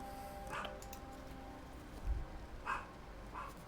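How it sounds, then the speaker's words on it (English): A few faint, distant dog barks come from somewhere in the background, spaced out across a quiet room tone. "Sorry about the dog if you can hear it."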